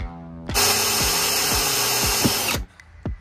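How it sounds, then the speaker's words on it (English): A power drill boring a small pilot hole into a personal watercraft part, whirring loudly and steadily for about two seconds before stopping, with faint clicks after. "And we're gonna start with a pilot hole, and then we're gonna expand that."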